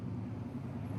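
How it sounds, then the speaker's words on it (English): Loud-muffler cars passing along a street in Orange County, a steady close engine rumble and traffic roar filling the moment without a break. "Boy, there's a lot of loud muffler cars here."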